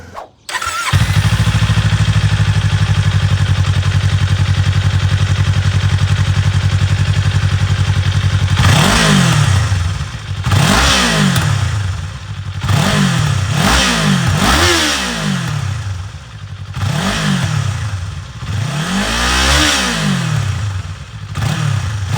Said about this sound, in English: let's go ahead and cut to the exhaust clip